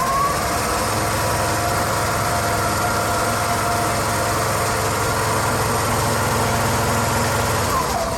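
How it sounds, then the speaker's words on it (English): A 20 CFM, 150 PSI reciprocating air compressor at a utility equipment expo, running loud and close with a steady droning hum and constant mechanical noise that holds evenly throughout. "We'll start up our recip compressor here at 20 CFM, 150 PSI."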